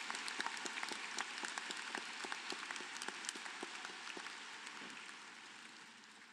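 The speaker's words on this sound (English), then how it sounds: "join me in clapping for applauding this group of students" Audience at a University of Guelph convocation ceremony applauding a group of graduating students, a steady wash of many hands clapping that fades gradually toward the end.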